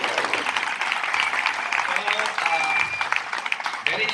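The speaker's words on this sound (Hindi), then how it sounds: "So we have to clap for ourselves." A church training-school audience in Siliguri claps together in a steady, dense patter of hand claps that fills the room at moderate loudness, with voices talking over it.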